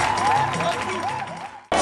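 Loud applause and cheering from the crowd at a Gabonese opposition party merger ceremony, with talk over it, cutting off abruptly near the end.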